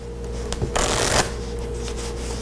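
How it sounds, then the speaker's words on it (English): A deck of playing cards riffled and shuffled up close, with a dense, loud burst of fluttering card noise in the middle and lighter handling clicks before and after. "Give them a mix. You can shuffle them as much as you want."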